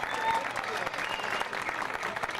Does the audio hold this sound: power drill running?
no